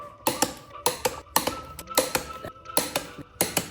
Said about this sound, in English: We're gonna set it at 47, and we're gonna torque them down, baby.